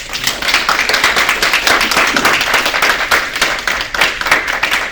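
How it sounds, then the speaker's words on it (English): Brisk, even clapping from a small group at a black belt promotion in a Kenpo martial arts school, close and continuous throughout with no talk over it. "Give her a round of applause."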